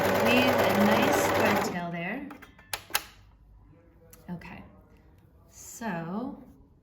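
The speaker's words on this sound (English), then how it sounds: "I'm just going to sew right over that and leave a nice thread tail there." A sewing machine stitches over a thread tail with a brief, fairly loud mechanical whir, mixed with a person talking before and after.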